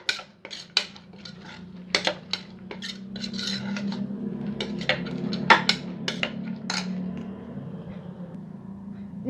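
Potatoes coated in chili powder are stirred and fried in a pan, with a run of sharp metal spatula clinks and scrapes against the pan over a low sizzle, fairly close and without speech.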